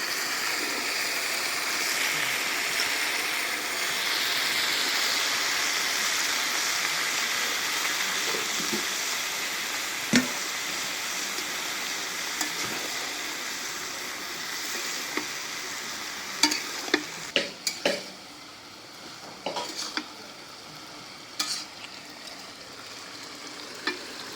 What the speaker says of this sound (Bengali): মশলাটা কষা নিলাম, এখন সবজি দিয়ে দিই। আলু আর বেগুন।